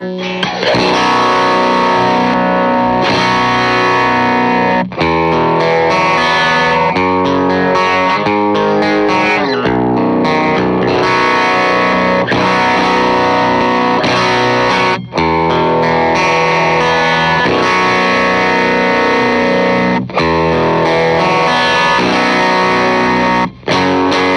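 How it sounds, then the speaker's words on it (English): A baritone guitar is strummed through a Supro-style preamp pedal, thick, distorted chords ringing loud and continuous with brief gaps between strums, alone without any voice. "grab my baritone and just give it a couple of strums and see how that sounds"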